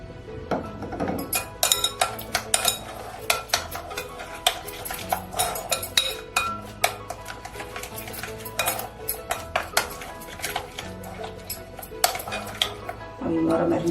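Utensil clinks and spoon scrapes from mixing roasted potatoes with a mint chutney marinade and a little oil in a bowl, steady rhythmic clatter of metal against the dish, close and fairly loud, with no talking.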